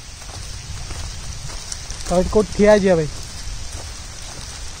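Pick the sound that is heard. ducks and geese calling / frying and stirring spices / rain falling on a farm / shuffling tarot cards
rain falling on a farm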